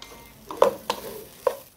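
Freekeh stirred into a pot of pigeon broth gives three quick close scraping taps over a faint low simmer, with no speech.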